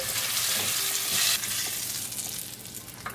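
Raw potatoes fry in a masala pot for Kashmiri dum aloo, a close, steady hiss of sizzling oil with a brief stirring scrape, no talking over it.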